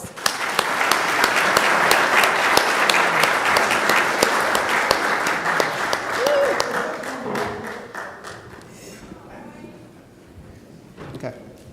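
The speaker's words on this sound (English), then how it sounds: "Please give them a round of applause" A school board meeting audience applauds the North Shore Rotary Club, dense crowd clapping loud and sustained for several seconds before thinning out to scattered final claps.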